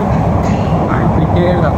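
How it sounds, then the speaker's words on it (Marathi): Inside a moving metro train in Mumbai heading to BKC, a loud continuous low rumble and rolling hum fills the carriage steadily without a break. "म्हटल्याप्रमाणे मेट्रोमधून चाललो आहे"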